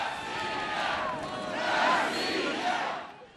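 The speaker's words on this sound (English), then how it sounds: "as the crowd on Red Square shouted, "Rossiya, Rossiya, Russia, Russia,"" Large crowd on Red Square in Moscow chanting "Russia" in unison, a massed roar of voices that swells and recedes over a few seconds, fairly distant and echoing.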